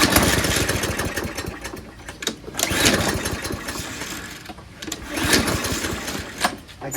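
A push lawn mower with a plastic carburetor is cranked over repeatedly without starting, making a rough, pulsing mechanical churn in uneven bursts up close, with a voice talking briefly during the cranking.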